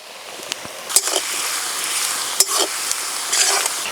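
Chopped onions with bay leaf, whole garam masala and salt sizzle steadily in a pan for a chicken curry, with occasional sharp scrapes and clicks of a spoon stirring them.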